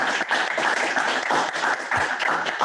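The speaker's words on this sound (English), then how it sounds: "a big round of applause, please" Audience in a lecture hall applauding a completed PhD on AI in breast cancer screening, a dense, steady round of clapping heard close and alone for a few seconds.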